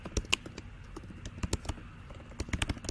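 Keys tapped on a computer keyboard while entering a web address into a form, a few quick scattered clicks in an irregular rhythm, close and fairly quiet.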